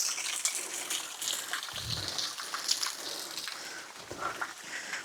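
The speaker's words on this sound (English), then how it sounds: "The water's trickling down the side of the rock." Muddy water trickles and gushes down the side of a rock in a small roadside waterfall in Kentucky, a steady close splashing wash that continues throughout.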